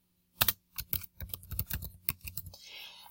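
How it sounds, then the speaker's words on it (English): A burst of roughly a dozen crisp key clicks on a computer keyboard in an uneven typing rhythm, close and clear with no talking, ending in a soft rustle. "I'm just going to type the name of our school."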